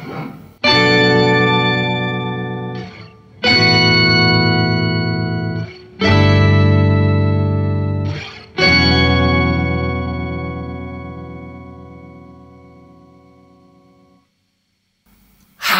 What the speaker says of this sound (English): Just an epically grand synth sound.